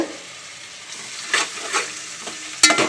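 Whole spices (cinnamon, cardamom and clove) sizzle in a hot pan as a soft, steady hiss, with a few scraping stirs and one sharp clink near the end.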